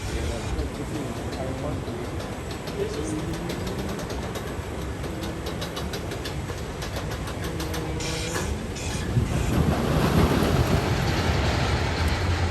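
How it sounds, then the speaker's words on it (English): A roller coaster train at Six Flags Fiesta Texas runs over its tracks, a steady rumbling clatter that swells louder near the end amid busy amusement park crowd noise and chatter. "Train's gonna go over tracks."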